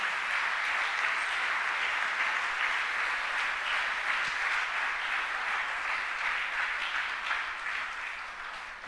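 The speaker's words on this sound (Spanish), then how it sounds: "denle un aplauso fuerte al Señor." Church congregation applauding loudly for the Lord during a sermon, a dense, steady wash of many hands clapping that holds for nearly nine seconds before easing slightly at the end.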